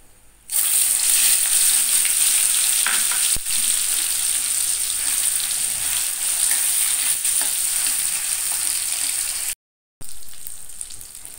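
Mashed teasel gourd bharta hits a hot wok that already holds a nigella seed tempering, and a loud, steady, close-up sizzle of frying starts at once and carries on with a few stirring scrapes before a brief break.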